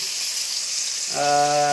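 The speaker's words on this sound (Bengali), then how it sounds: "মাছ ভাজা চালু হয়ে গেছে" Fish sizzles in hot oil in a frying pan, a steady hissing crackle throughout, with a voice starting to speak over it near the end.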